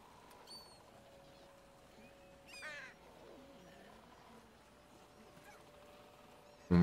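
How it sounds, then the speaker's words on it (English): Birds calling in the Michonne episode of The Walking Dead video game: a few scattered chirps and a brief burst of calls near the middle over a quiet ambient game background, with a steady tone underneath. "Bird be birding."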